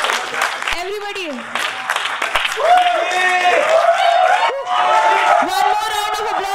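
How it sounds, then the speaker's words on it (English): Audience at a cultural night clapping for the dancers, a loud continuous wash of applause mixed with cheering, whoops and shouting voices. "One more round of applause for the amazing team."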